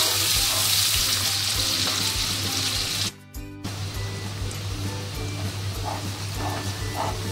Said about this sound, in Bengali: পেঁয়াজটা আমার ভাজা হয়ে এসছে, আর একটু হবে।